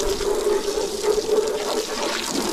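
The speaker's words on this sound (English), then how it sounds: "fill up our tub full of water." Water from a hose gushes steadily into a tub, a continuous rushing splash with a faint tonal ring, no voices present.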